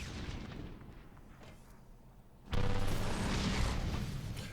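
Bomb explosions in the video game Atlas Reactor: a quieter rumbling stretch gives way to a sudden loud, sustained boom with crackling debris that holds at full strength to the end.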